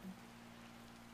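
Steady rain falls across a dark, quiet night in the video game Bear and Breakfast, a soft continuous patter with a faint low hum beneath it and no voices.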